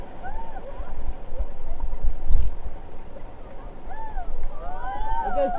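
Paddles dig into a river as a rafting crew strokes forward, rhythmic splashes and gurgling water under a loud rushing flow, with shouted voices and calls scattered through.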